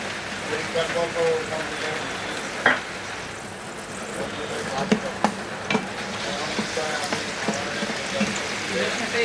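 Garlic fries in hot oil in a pan while being stirred, a soft steady sizzle with scattered scraping clicks, heard under people talking.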